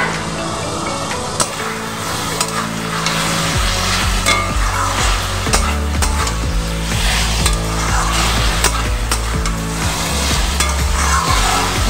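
Fried potatoes and pointed gourd go into a pan for a soya chunk curry and are stirred, producing loud, steady sizzling with scraping stir strokes throughout.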